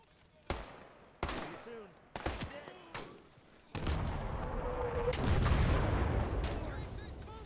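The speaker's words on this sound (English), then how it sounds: "that's our artillery" Artillery fire in a Normandy battle game with a Panther tank: several sharp separate booms, then a dense, continuous roar of rolling fire, loud and close.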